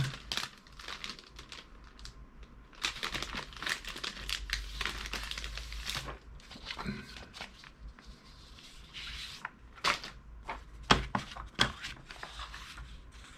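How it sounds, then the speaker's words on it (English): Paper sheets are pulled out and handled in preparation for drawing, giving a run of close, dry crinkling and rustling bursts with scattered crisp sharper rustles and no talking. "So let's take out some paper."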